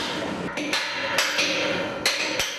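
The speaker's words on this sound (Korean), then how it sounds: "경쾌하게 울리는 망치소리." A hammer rings against steel during tower crane mast installation on a high-rise construction site, giving about six sharp metallic strikes in an uneven rhythm over a steady background hum.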